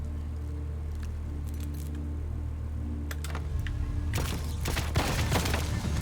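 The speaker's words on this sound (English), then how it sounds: "I gotta pick the lock first." Small metallic clicks and scrapes from a lock being picked in the video game Intravenous II, followed by a louder burst of rattling noise over a steady low hum.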